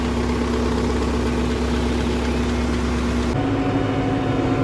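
A Case Farmall tractor engine drones steadily and close while driving out to the field, a constant low rumble with vibration, the tone shifting slightly partway through.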